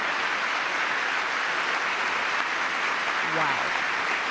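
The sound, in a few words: applause at the State of the Union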